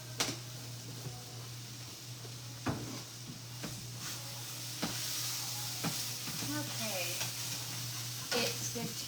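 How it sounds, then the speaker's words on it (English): Bacon sizzles steadily in a pan, a continuous crackling hiss with a low hum underneath, broken by a few sharp clicks and scrapes of stirring; no one speaks. "Bacon is cooking."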